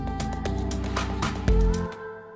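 An Afro House drum fill, dense rapid percussion hits over a deep bass tone, ending in a heavy low thump and a short tail, loud and close.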